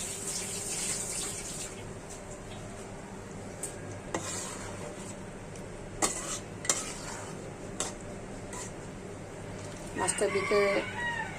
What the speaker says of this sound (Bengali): আমি যখনই কথা বলি তখনই মোরগটা ডাক দেয়